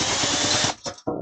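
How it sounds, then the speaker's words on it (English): A drill spins up briefly to mark a centre point, a steady whirring burst of under a second followed by two short, lower-pitched whirs as it slows, close and loud. "all we're going to do with the drill is make a mark"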